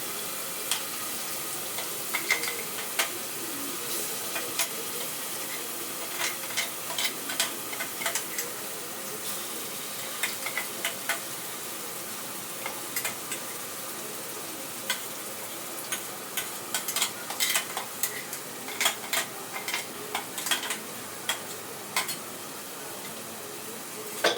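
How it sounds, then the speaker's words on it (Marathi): Whole masoor lentils with masala paste fry in oil for masoor rice while a spoon stirs them, giving a steady soft sizzle broken by frequent light ticks and scrapes against the pot. "चमच्याने ढवळायचं आहे. तेल सुटेपर्यंत चांगलं त्याला भाजून घ्यायचं आहे."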